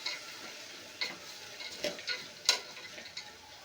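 Mixed dal being stirred into vegetable khichdi in a pot, heard as faint, sparse scrapes and soft knocks of a spoon spread irregularly across a quiet background with no voices.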